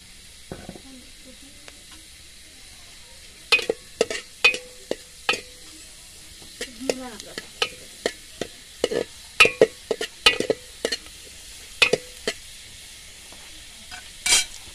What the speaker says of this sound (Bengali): রসুনগুলা লাল হতে থাকুক